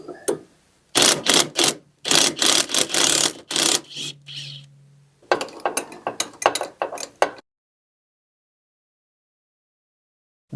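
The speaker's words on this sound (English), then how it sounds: "14mm wrench to back it up." A 14mm wrench works loose a drive arm bolt on a Cub Cadet RTZ 50 hydro zero-turn mower, giving close, rapid ratcheting clicks in several quick bursts before falling silent.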